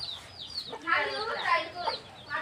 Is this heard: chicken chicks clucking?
yes